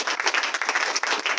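A church congregation at a Sunday service claps steadily together, a brief, even patter of many hands at moderate distance.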